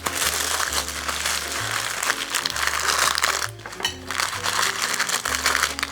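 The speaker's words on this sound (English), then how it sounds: "wrap it in deli paper" Sandwich of Italian beef on thick bread, drenched in jus, being wrapped in deli paper: continuous close crinkling and rustling of paper over a steady low background music bed.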